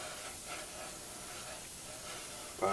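An airbrush lays a light guide coat over a Firebird car body, giving a steady, soft hiss of spray that runs unbroken before a brief louder burst right at the end.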